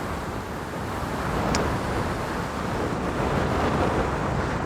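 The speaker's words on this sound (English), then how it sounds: "it's very strong wind here on the top of the mountain" Strong wind buffeting a microphone on a steep mountain peak near a glacier, a continuous loud roaring rumble with no pauses.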